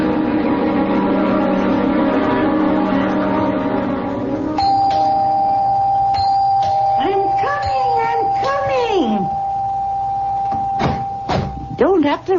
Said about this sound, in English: Don't have to rip the bell off the door, young man.